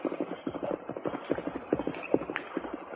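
Hoofbeats of a horse carrying a rider approaching across a toll bridge in an old radio drama, a steady rhythmic clip-clop at moderate distance with no voices.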